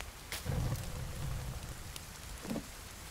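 Rain falls steadily in the survival video game The Forest, a dense hiss with a few dull low thumps mixed in, heard on its own.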